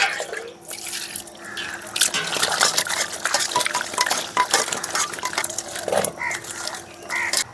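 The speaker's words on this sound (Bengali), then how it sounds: "এখন পরিষ্কার করে ধুয়ে নেব মাছগুলোকে" Cut bata fish being washed in water, with sloshing and dripping splashes under a steady low hum, close and fairly continuous.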